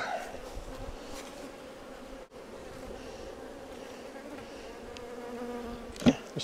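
Honey bees hum steadily around open hive boxes during splitting of a colony, a dense continuous buzz close to the ear with individual bees zipping past now and then.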